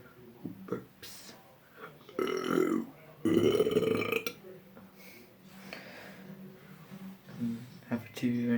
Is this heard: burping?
yes